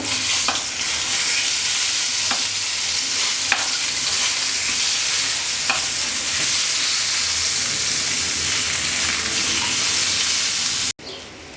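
Brinjal slices frying in a pan, a loud continuous sizzle and hiss with a few faint clinks of turning, steady until an abrupt cut near the end.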